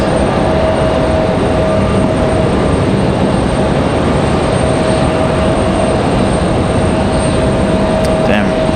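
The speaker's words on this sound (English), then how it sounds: "we do have an American A321 headed up to 23 left" An American Airlines Airbus A321 at Raleigh-Durham International Airport, heading for a runway, gives a steady, loud jet roar that fills the whole stretch without a break.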